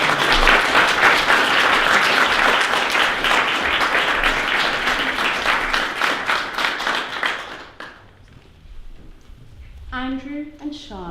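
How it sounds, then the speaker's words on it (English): Wedding guests break into sustained, dense applause and clapping that fades out after several seconds, followed by faint voices. "A round of applause."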